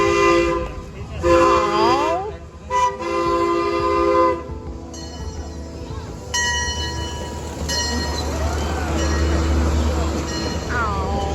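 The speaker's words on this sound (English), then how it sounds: "Let's watch the train go." An amusement park train at Six Flags sounds its horn in several loud blasts, then rumbles steadily past nearby, with people talking in the background.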